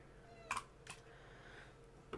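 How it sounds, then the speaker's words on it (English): A house cat meows a few times indoors, wanting to be let out, with two short close calls near the start and another at the end over a quiet room hum. "And my cat wants out, so give me one moment."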